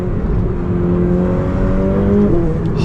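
A Ferrari 488 Pista accelerating hard, its engine giving a deep, bassy drone that rises steadily in pitch, loud and close with no talk over it.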